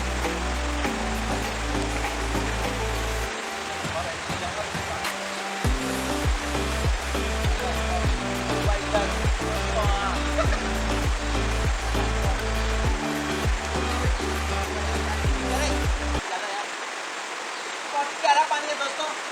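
Rushing water roars steadily at the Dangiri waterfall, a broad, constant wash heard close, with music playing over much of it.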